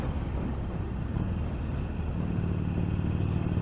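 A black Harley-Davidson Sportster Iron 1200 motorcycle being ridden, its engine a steady, low rumbling drone heard up close throughout, with no voices.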